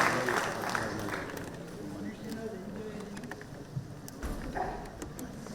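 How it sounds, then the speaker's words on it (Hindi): An audience at a youth spiritual summit in Varanasi claps to welcome Dr Virendra Kumar, India's Minister of Social Justice and Empowerment, with a steady wash of applause and crowd noise under voices in a large hall. "आइए सभी तालियों के साथ स्वागत करें भारत के यशस्वी सामाजिक न्याय एवं अधिकारिता मंत्री डॉक्टर वीरेंद्र कुमार जी।"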